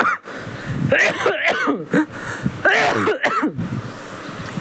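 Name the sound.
cough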